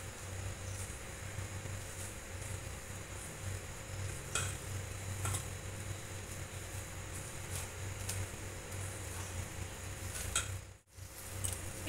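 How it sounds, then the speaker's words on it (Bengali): Hands mix a flattened rice (chira) cutlet mixture with gram flour, giving a continuous soft, squishy kneading and stirring texture, moderately close, with a brief pause near the end and no talking. "এবার সব আমি একসঙ্গে ভালো করে মেখে নেব।"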